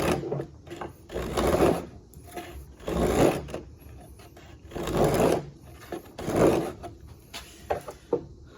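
A quirk hand plane pushed along a piece of wood, each stroke a rasping, scraping swish lasting about a second and recurring roughly every one to two seconds, close and fairly loud with brief pauses between passes.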